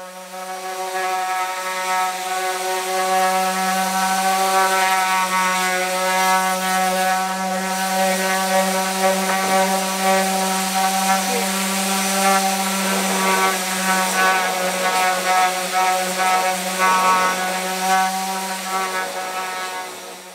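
Power sander running steadily across a varnished farmhouse table, a continuous buzzing whine with strong even harmonics, moderately loud and close, with no talk.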